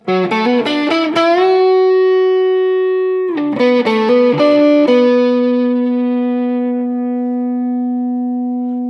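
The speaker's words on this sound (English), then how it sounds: "This is the neck pickup with some distortion." Distorted electric guitar on the neck pickup of a Gibson Kirk Hammett Les Paul Standard "Greeny", warm, rounded tone: a quick run of picked notes ringing into a sustained chord, then another flurry settling into a long held note.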